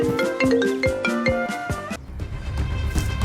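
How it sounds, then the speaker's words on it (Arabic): A mobile phone ringtone plays alone, a bright, close melodic run of quick repeated tones for about two seconds before cutting off into background noise. "عشان الموبايل بيرن"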